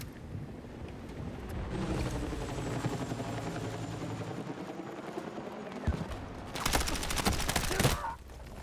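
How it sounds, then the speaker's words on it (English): A helicopter in Battlefield 6 drones with a steady, fluttering rotor hum that persists throughout. Near the end, a loud burst of rapid gunfire cuts in, and faint voices are briefly present. "There's a helicopter below me."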